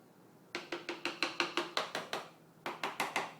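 Close, crisp taps of a small metal hammer seating a Festool Domino tenon in a drawer joint: a steady run of about ten strikes, a short pause, then four more.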